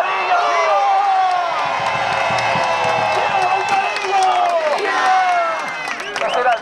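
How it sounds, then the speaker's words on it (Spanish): Loud crowd in the Juncalillo village square in Gáldar cheering, whooping and clapping for the centenary branch during the Bajada de la Rama fiesta, with music and voices mixed in throughout. "El aplauso más fuerte, que retumbe de aquí a Tejeda, que se oiga en el hospital"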